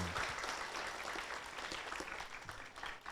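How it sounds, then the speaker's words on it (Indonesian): A crowd claps together in dense, sustained applause at a madrasah school ceremony, fairly even throughout with a slight dip near the end. "Tepuk tangan."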